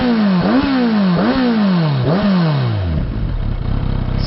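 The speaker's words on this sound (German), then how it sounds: "Motor läuft ja echt super." A Kawasaki Z900RS motorcycle engine revs up and drops back three times in quick succession, close and loud, then settles into a rumbling idle.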